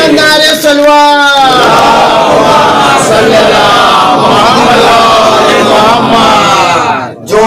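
A congregation at a Shia mosque majlis chants slogans back in unison, a loud, close mass of voices rising together in sustained call-and-response shouts that break off briefly before continuing.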